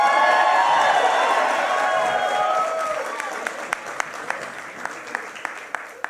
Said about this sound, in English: clap for the end of Earthbound